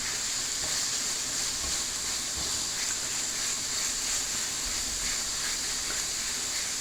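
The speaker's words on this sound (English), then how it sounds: "You can hear that sizzle. See how it's a bit bubbly?" Food sizzling in a hot pan, a steady, even hiss that carries on unbroken with no talking.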